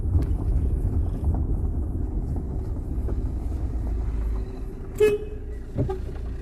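A car passes on a village road during a holiday outing, its engine rumbling steadily nearby and then fading, with a brief sharp noise near the end.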